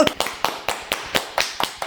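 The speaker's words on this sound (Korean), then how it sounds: "박수!" Sharp, evenly spaced claps ring out one after another, about nine in under two seconds, close and crisp like a few people clapping in rhythm.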